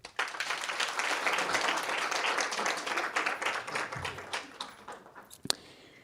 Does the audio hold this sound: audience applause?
yes